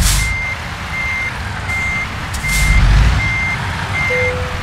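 Truck reversal alarm in American Truck Simulator beeping in a steady series of six evenly spaced tones over a low engine rumble, with a brief hiss partway through.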